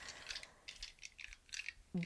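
Astrology dice rattle in a quick series of light clicking bursts, faint and close, with a brief louder knock at the end.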